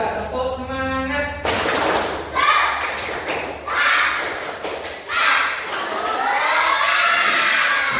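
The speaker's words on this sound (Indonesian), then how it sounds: "1, 2, 3, tepuk semangat." Schoolchildren in a classroom perform the 'tepuk semangat' clapping chant: a loud burst of rhythmic claps and thumps with shouted, chanted voices that runs for several seconds after a quieter opening.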